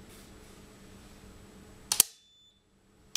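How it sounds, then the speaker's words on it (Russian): An outgoing circuit breaker trips under a 160 ampere test current: a low electrical hum, then a sharp double snap, then near silence with one more click at the end. "И видим, у нас отключается только отходящий автомат"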